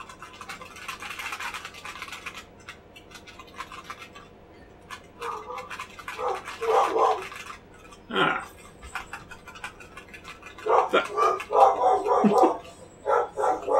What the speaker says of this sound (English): Yeah, you just hear the dogs. Wow, they're going nuts.